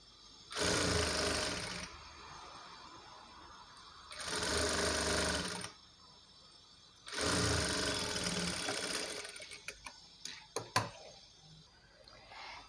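Sewing machine stitching lining fabric to main fabric in three separate bursts of rapid whirring, with quiet pauses between them and a few light clicks at the end.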